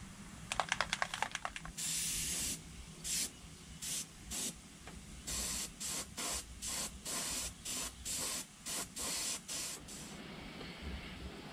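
An airbrush or spray can lays a yellow base coat of paint on a wood-carved largemouth bass, heard as a quick flurry of short hisses followed by a long series of evenly spaced, close spray bursts with brief gaps.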